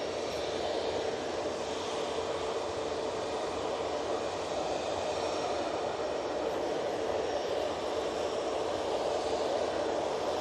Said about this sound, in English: Speaking of A321-200s, we have one of Jet2's now.